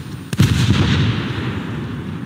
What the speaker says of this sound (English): I'm gonna go for an explosive shot and hit his main citadel.